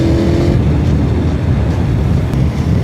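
Aprilia Tuono V4 Factory motorcycle with its V4 engine, a loud, steady, close-up rumble under wind noise, holding a constant throttle throughout with no speech.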